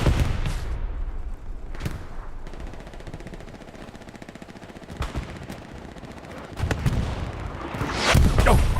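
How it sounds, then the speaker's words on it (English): An artillery round landing in the Hell Let Loose World War II shooter, heavy booming impacts among scattered gunfire, with bursts of machine-gun fire and a loud blast rising near the end. "Oh, artillery round lands right inside"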